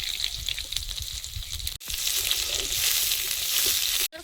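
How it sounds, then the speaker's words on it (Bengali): Crab curry sizzles loudly in hot oil with five-spice seeds and ginger, a continuous close frying hiss with a couple of brief breaks. "এবার কাঁকড়ার তরকারিটা বসিয়ে দেব পাঁচ ফোড়ন আদা"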